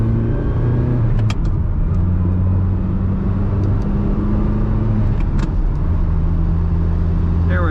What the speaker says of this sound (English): I love that little engine whine you get.